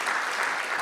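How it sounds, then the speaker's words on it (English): A gala audience claps in a brief, steady wash of applause that fills the hall without any voices. "we can give a little round of applause"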